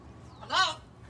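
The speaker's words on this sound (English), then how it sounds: "It's a bird." A single short bird call rings out outdoors, a clear chirp rising and falling in pitch, fairly close and alone against light background noise.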